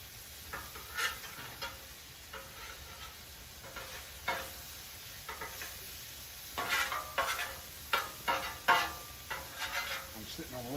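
Bacon sizzles on a Blackstone flat-top griddle, a steady low crackle with sharper pops and spatter bursts, plus occasional scrapes of a spatula against the metal.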